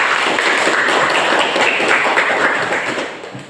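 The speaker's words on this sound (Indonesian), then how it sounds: "Maka tepuk tangan untuk kita semua" Students in a vocational school classroom applauding, a dense continuous patter of many hands for a few seconds, fading toward the end.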